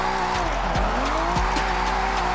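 A Toyota Chaser drift build slides in Forza Horizon 6, its engine droning steadily while the tires squeal and the revs swoop up and down through a wide, continuous drift, close and fairly loud.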